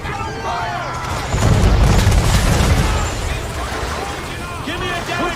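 Ship cannons boom in an Assassin's Creed III naval battle, a loud deep blast swelling and rolling on for a couple of seconds while crew members shout over the din.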